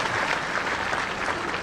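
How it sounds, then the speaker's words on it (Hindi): Applause from a large audience at a Bihar Day celebration, dense and sustained clapping that fills the whole moment at a constant, loud level. "ताली बजाओ तो सबके लिए बजाओ"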